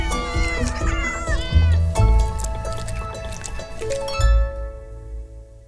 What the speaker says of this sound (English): Oh my God, you have a cat.